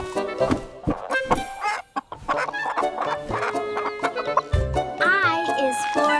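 A hen clucks repeatedly in short, bright bursts over a lively children's ABC song backing with a voice, fairly close and loud.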